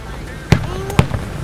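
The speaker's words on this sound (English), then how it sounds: "Fireworks!" Two loud, sharp firework bangs about half a second apart, followed by a fainter crackle, with people's voices heard around them outdoors.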